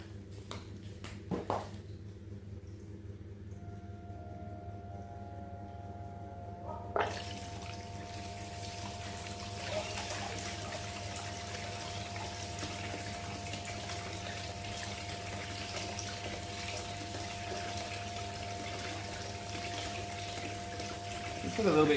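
Water runs through a gold cleanup sluice over concentrate, a low, steady pumping flow with soft trickling, fairly quiet throughout, with a few faint knocks and clicks scattered along.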